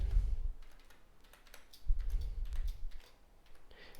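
A BIOS password is typed on a computer keyboard: a few soft, close key taps and clicks come in small clusters, with quiet pauses between them.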